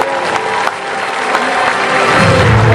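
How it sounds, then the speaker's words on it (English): A large audience claps loudly and steadily for the winners of a talent show, a dense sustained wash of applause with a few louder swells and no clear voices. "Everybody, give them all a big round of applause."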